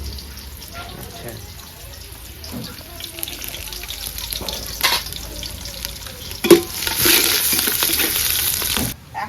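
Ghee sizzling in a hot pan while cooking chicken pulao, a steady crackling fry with stirring clatter and a louder burst of sizzle near the end, heard under faint background voices.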